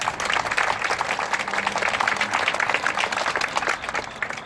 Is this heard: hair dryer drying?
no